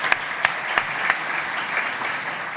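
An audience at a conference stage session on cryptocurrencies breaks into sustained, even applause to welcome a speaker, with a few sharper, closer claps standing out near the start of the dense clapping.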